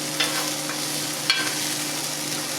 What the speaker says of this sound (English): You gotta love that sizzle. Gotta have the sizzle.